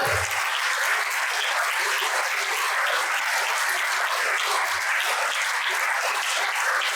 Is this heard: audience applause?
yes